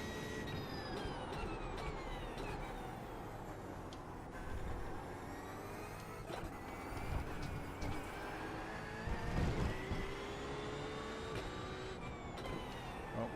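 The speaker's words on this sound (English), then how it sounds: "Car coming up quick." Race cars run on track at an IMSA round at Fuji, their engines a steady, moderately distant drone with passing swells and no talk over it.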